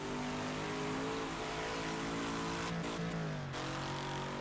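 Race car engine in the video game Wreckfest, a loud continuous drone that rises and falls with revving and gear changes as the car loses traction, with no talk.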